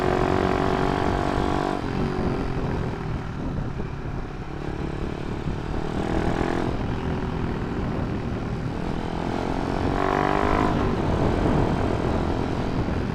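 A Yamaha MX old 200cc motorcycle is ridden at speed, its engine buzzing loudly and continuously with wind rush, the pitch rising and falling several times through gear changes, close and alone.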